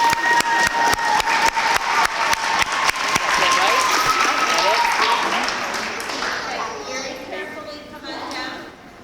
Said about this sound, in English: Let's have a big round of applause for our third grade.